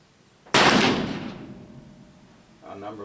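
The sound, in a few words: Pietta 1858 revolver shots at target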